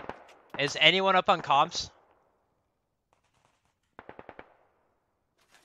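Distant gunfire in the military shooter Squad, a brief rapid burst of four or five sharp cracks after a stretch of quiet, with someone talking over a radio just before it.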